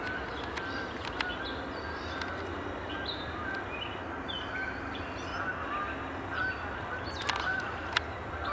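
Faint honking of a flock of geese flying in at a distance, scattered calls overlapping above a soft steady background hiss, with a few sharp clicks.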